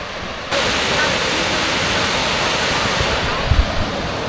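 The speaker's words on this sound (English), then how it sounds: "Let's get behind that waterfall." Dry Falls waterfall near Asheville rushing in a steady, loud, broadband roar that starts abruptly and holds constant, close up, with a few faint bumps near the end.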